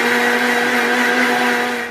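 A mixer grinder crushes a spice paste with a teaspoon of cumin added. It gives one loud, steady motor whir with a constant hum that runs the whole time and tapers slightly at the end.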